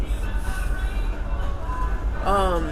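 Steady rumbling rail noise inside a moving passenger train carriage, a continuous low roar with faint tonal squeals, and a voice briefly speaking near the end.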